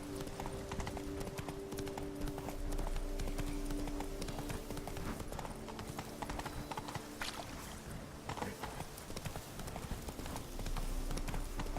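Rhythmic clip-clop of horse hooves at a steady gallop in The Witcher 3: Blood and Wine, continuous and fairly loud against a busy game soundscape with a low droning background.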